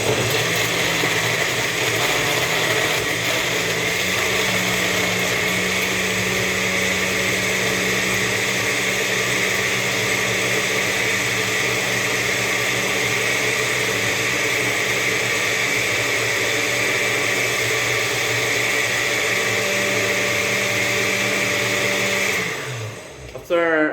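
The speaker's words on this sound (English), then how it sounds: "My blender has 3 powers, so first we go slow. We put it in 1 power for a few seconds in number 1." A household blender runs steadily at its lowest of three speeds, a loud continuous motor whir with a grinding edge that holds for about twenty-two seconds before cutting off abruptly.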